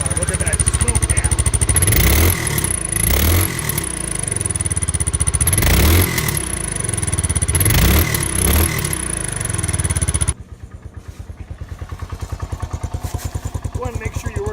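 A carbureted motorcycle engine runs close and loud, its throttle blipped repeatedly in surging revs before settling into a lower, rough, pulsing idle, with a voice speaking over it.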